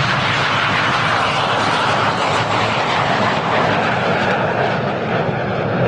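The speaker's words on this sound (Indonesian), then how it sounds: "ada juga pesawat Airbus double layer A380" An Airbus A380 double-deck airliner flies past with a loud, steady, broadband engine roar that holds at a constant level throughout, with no voices.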